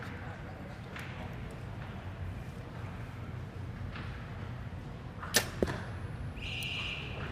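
An arrow strikes an archery target at an indoor women's open final, a sharp near impact followed by a second smaller thud, standing out over a steady crowd and hall murmur.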